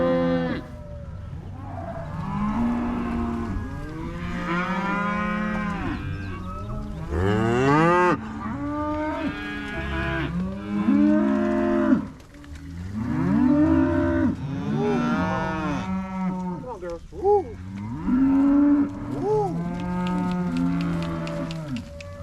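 Mashona cross cattle on a farm during weaning, mooing and bellowing repeatedly in overlapping calls from several animals, loud and close, continuing steadily throughout.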